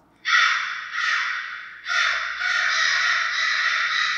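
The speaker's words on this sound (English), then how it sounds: "Have you heard the crow sound?" Crow cawing loudly and close by in repeated harsh calls, a long one followed by several overlapping caws in quick succession, with no voices over it.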